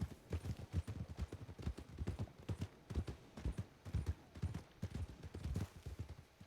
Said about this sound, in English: So there should be a horse coming up right here.